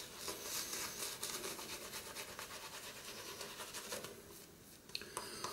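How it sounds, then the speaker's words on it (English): A razor makes its third pass across a lathered face, giving a soft, steady scratchy rasp of strokes that is quiet and close, with no voices. "So today, high speed shaving."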